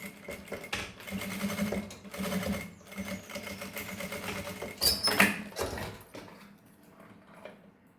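A sewing machine stitches a seam along the bias binding on the lining of a mesh fanny pouch, running in close bursts of rapid mechanical chatter with brief pauses, then trailing off into quiet.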